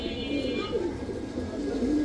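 Flying pigeons coo close by, a run of soft throaty calls rolling one into the next, with faint background murmur.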